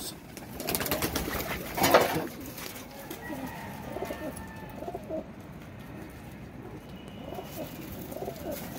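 Pigeons coo nearby in soft, repeated throaty calls, with a brief flutter of wings early on; golden and teddy flying pigeons.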